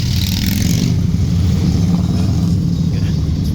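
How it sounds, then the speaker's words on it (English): Motorcycle engines rumble and rev continuously close by, a loud steady roar of passing traffic with no voices. "Got all these motorcycles driving by"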